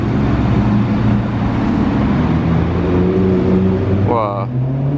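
Supercars including a Lamborghini Aventador SVJ, an Aston Martin DB11 Volante and a Maserati roll past on a street, giving a loud, steady engine rumble with rising and falling tones as someone talks over it.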